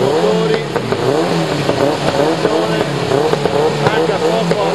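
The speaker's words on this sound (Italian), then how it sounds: "Vetture che scaldano i motori" Race cars at the Formula Crono Padova 2008 event rev and idle their engines before the start, a dense, loud mix of throaty engine tones rising and falling in overlapping bursts, with a voice talking over them.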